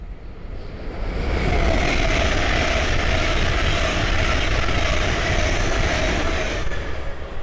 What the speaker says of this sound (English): the next train to pass by is a Hull Train 800 from Edinburgh Waverley to London King's Cross